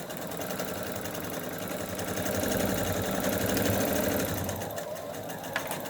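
A sewing machine stitches elastic onto a fabric mask cover, running in a fast, steady whirring chatter for several seconds, close and fairly quiet, briefly swelling before easing off.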